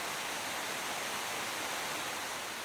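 A rushing mountain torrent tumbles through a cool larch-wooded valley, giving a dense, steady, fairly faint roar of water with no breaks.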